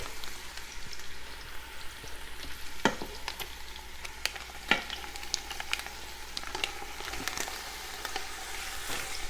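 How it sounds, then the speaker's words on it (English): Ground sausage and ground beef browning together in an Instant Pot give a steady close sizzle, broken by sharp scraping clicks from stirring, with no talking. "The meat is done browning"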